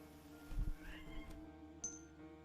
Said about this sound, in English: He's meowing pathetically